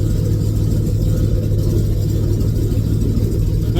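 A 1984 Ford F250 engine runs steadily just after a cold start, a loud, continuous low rumble with an uneven, lumpy idle and no talking.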